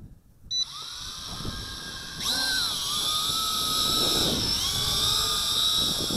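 An XK X300 toy drone makes an automatic takeoff in wind. Its motors start up with a sudden high-pitched whir that builds, then hold a steady buzzing whine with slight pitch wobbles, close and loud.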